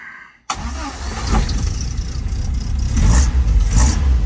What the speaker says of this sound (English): She is a pig to start, this car.